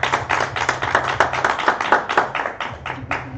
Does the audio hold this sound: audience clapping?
yes